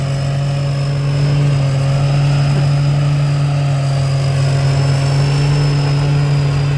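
A new 2024 Boku Boy Charoen Kan Chang combine harvester engine runs steadily at a constant idle-like drone, with a strong low hum and a faint high whine, close and continuous with no talk.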